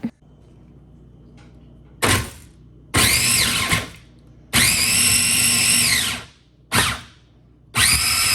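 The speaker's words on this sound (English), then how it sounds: "just dump everything in the chopper like so and we're gonna grind them" An electric chopper grinds onions for a dosa topping in five short, loud whirring bursts separated by pauses, each spin rising to a steady high whine before cutting off.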